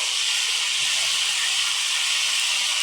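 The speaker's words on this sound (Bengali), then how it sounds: "আদা রসুন বাটাটা দিয়ে আমি একটু ভালোভাবে ভেজে নেব" Ginger-garlic paste frying in a pan for a thin country-chicken curry, a loud continuous bright hiss of sizzling oil with no breaks.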